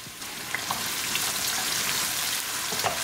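Onions hitting hot oil with garlic in a pan for vegan navratan korma, a loud, steady close sizzle with faint crackles and stirring scrapes throughout.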